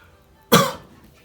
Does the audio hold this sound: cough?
yes